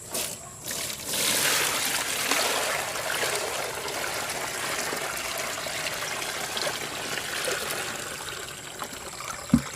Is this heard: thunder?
no